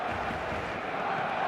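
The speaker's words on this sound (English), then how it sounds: "the crowd level has gone up a notch or 10" A stadium crowd at a Barcelona versus Real Madrid match roars steadily after a Barcelona goal, a dense, continuous wall of cheering that holds at one level throughout.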